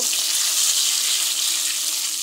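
Koi fish frying in a pan of oil give off a loud, even, close-up sizzle that holds steady from start to finish with no voices.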